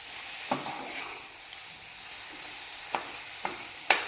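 Jaggery melts in a pan over a medium flame, with a soft, steady sizzle and hiss and a few sharp spoon taps against the metal as it is stirred.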